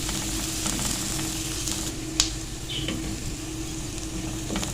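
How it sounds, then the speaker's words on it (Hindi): Onions softening in a pan for creamy chicken buns, giving a steady low sizzle of sautéing with faint stirring and a single brief clink near the middle, no voices. "लेकिन हल्का सा सौते कर लेंगे ताकि ये सॉफ्ट हो जाए।"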